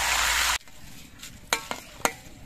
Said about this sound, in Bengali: এবার গন্ধরাজ লেবুর পাতাগুলো ভেজে নিচ্ছি।